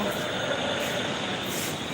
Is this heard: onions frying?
no